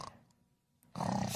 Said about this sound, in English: Snoring! Snoring?